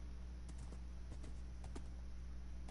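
Horse hooves clip-clop in the video game Minecraft, a quick run of light, evenly spaced thuds over a steady low game hum, with no one talking.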